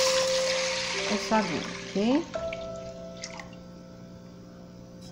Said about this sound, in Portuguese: E vamos colocar a água para a gente cozinhar